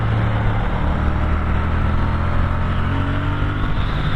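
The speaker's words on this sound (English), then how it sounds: "Wow, that engine." The engine of a black 2016 Triumph T120 motorcycle revs loudly and continuously, a steady, deep, close-up drone with a slight rise in pitch near the end.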